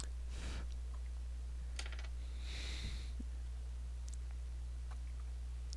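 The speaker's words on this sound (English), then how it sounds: "God, stop right-clicking." Sharp mouse right-clicks in a gaming session, a few brief bursts spaced through the clip over a steady low hum, with no talking.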